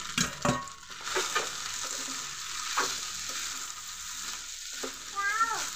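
Vermicelli and fried eggs are stirred together in a pan, giving a soft, steady sizzle punctuated by scraping and clinks of a spatula against the pan. There is no talk.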